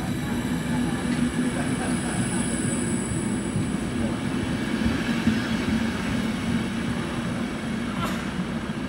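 A train passes through Milano Rogoredo station at night, a steady loud rumble of wheels and carriages with a high squealing tone running throughout.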